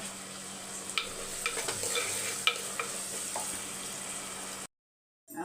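Cooked rice is stirred into a mixture in a pan, with soft scraping and light clinks of a spoon close by over a faint hiss. The sound stops abruptly near the end.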